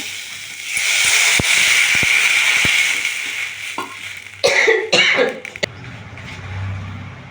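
Water poured into a hot pan while making amla chutney gives a loud, steady steam hiss for several seconds, fading, followed by a few knocks and clatters of a utensil.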